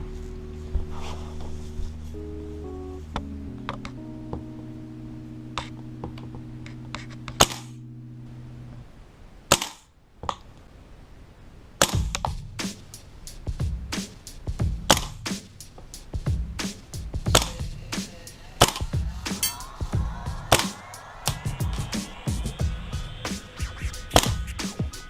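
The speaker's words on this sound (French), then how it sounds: "Et donc on va procéder à 10 tirs." A VFC VR16 gas blowback airsoft rifle fires a series of sharp, distinct shots at uneven intervals, each with a crisp mechanical clack. Electronic beeping tones come before the first shots.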